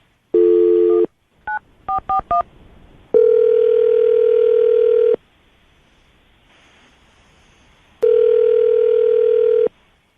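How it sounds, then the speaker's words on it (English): Telephone tones: a steady dial tone, a quick run of keypad beeps, then long ringing tones with a pause between them, loud and close. "I'm going to dial the phone number right now, okay?"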